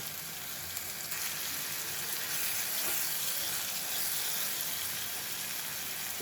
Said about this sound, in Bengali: মশলাটা ভালোভাবে ভিনে নিচ্ছি